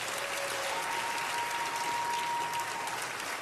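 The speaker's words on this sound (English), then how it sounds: "Give her a round of applause." An audience at a comedy roast keeps up steady, full applause from start to finish, a dense wash of clapping with a faint tone running through it.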